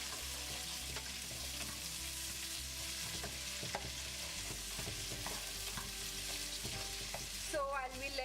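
Finely sliced onion sautéing in a pan for peas pulao, a continuous close sizzle with occasional stirring scrapes and light clinks over a steady low hum, no one speaking.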